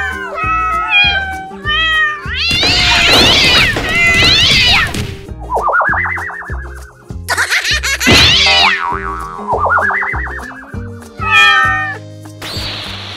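A cartoonish cat meows repeatedly in bright, bending cries, mixed with comic boing effects, whacks and crashes over background music, all loud and close.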